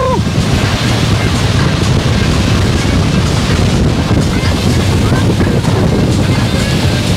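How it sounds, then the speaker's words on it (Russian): A fast speedboat runs on the open sea, its hull slapping and engine rumbling under a heavy, constant rush of wind and spray close to the microphone. "А катер очень-очень скоростной."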